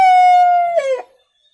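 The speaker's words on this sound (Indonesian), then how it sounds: "Ayam saya sudah berkokok." A single rooster crow, loud and close, with one long drawn-out note that breaks into a short wavering finish before stopping. No other sounds around it.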